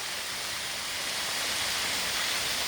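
A Kentucky waterfall pours in a constant broad hiss and roar, steady and close with no other sounds over it.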